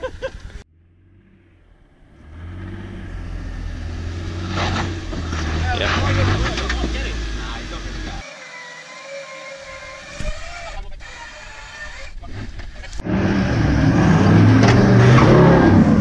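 A 4WD climbing over a rock on a bush track, its engine droning, rising and labouring, with bumps and knocks and louder revving near the end, while people talk over it.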